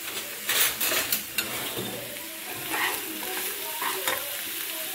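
Pumpkin pulp and grated coconut stir-fried with salt in a pan over medium heat, a steady close sizzle broken by scraping spatula strokes and occasional clinks against the pan, no voices.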